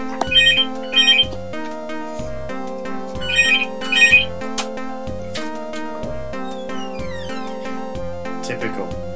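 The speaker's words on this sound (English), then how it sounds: "It's real life phone calls happening" Phone ringing with an incoming call, a repeating electronic ringtone melody with bright tonal bursts that sounds steadily throughout, with voices present.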